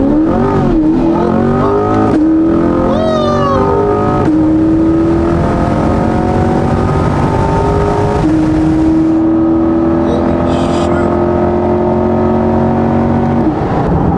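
A Corvette C8 fitted with Stainless Works headers is run at wide open throttle. It makes loud, sustained acceleration with the engine pitch rising steadily through several gears, with short breaks at each upshift. There is no talking.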